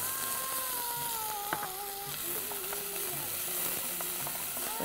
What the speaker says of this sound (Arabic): هكا ديجا الزيت سخون والبصل مش باش يبطى برشا باش يتقلى بطبيعته